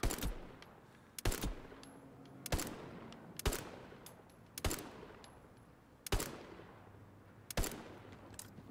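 Gunfire in the video game Hell Let Loose during a zombie event: sharp, loud single shots ring out at irregular intervals of about a second, each trailing a short echoing decay.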